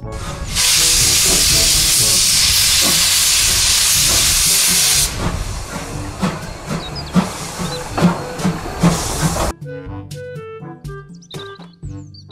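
A loud, steady hiss of steam from a Thomas toy train, followed by chugging and clanking, then quieter chirpy sounds.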